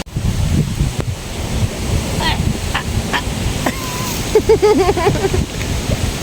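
Strong storm wind roaring across the microphone at People's Park in the Sky in Tagaytay, a continuous heavy rush with scattered voices and brief higher chirps over it.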